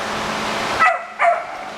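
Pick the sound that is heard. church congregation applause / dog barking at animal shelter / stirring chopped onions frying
dog barking at animal shelter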